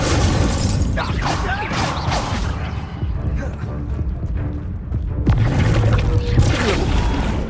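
Incendio fire spell cast in Hogwarts Legacy during a dark wizard attack near Hogwarts, loud whooshing flame bursts and crashing impacts over a dense game soundscape, with voices speaking throughout.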